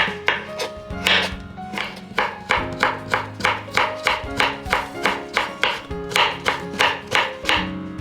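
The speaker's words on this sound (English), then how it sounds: "Peel the carrots and cut them into strips." Knife chopping carrots into strips on a cutting board for Japanese vegetable tempura, a steady run of crisp, evenly spaced knocks, close and clear, about two strokes per second with no talking.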